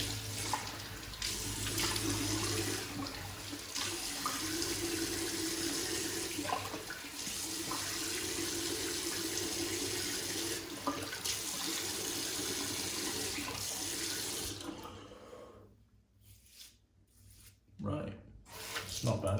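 Water runs steadily from a bathroom sink tap during a wet shave as a face is washed. The close, continuous rushing splash stops near the end, leaving a few brief splashes.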